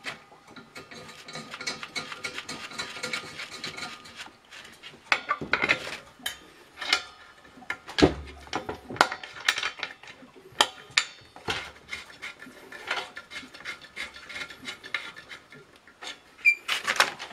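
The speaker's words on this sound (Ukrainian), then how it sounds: "І закриваємо кришку." A metal lid being set onto a home still's boiling vessel and a steam dome fitted, with sharp clanks and scraping metallic knocks scattered through the stretch, close and fairly loud, with no talk.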